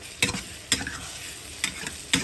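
Browning onions sizzle in a hot pan while a spoon scrapes through them in four distinct strokes, each a loud rasp over a continuous close frying hiss.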